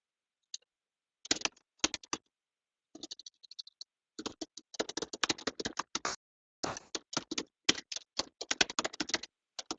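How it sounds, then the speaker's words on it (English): Someone types on a computer keyboard during an online webinar call, with faint bursts of rapid key clicks separated by short pauses and growing busier toward the end. "I can hear someone typing."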